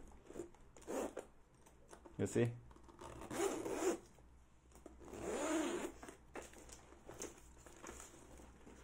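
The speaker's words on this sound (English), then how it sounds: "Okay, and then we can see the zipper." Zipper on a leather Louis Vuitton Keepall bag being slid and handled in several short rasping pulls, close and fairly quiet, with a person speaking briefly between them.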